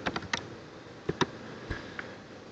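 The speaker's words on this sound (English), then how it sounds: "I'm going to go here and type plywood." Keys on a computer keyboard are tapped in a short, quiet burst of a few clicks, then two sharper taps and a couple of faint ones over a low room hiss.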